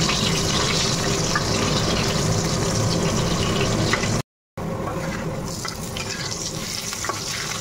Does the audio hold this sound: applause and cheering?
no